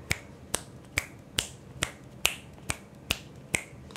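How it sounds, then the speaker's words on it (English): A steady run of nine sharp finger snaps, close to the mic and evenly paced about half a second apart, sounding alone in a quiet room. "I want you to count how many times I snap my fingers."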